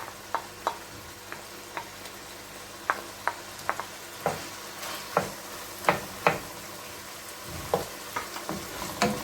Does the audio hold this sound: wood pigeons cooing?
no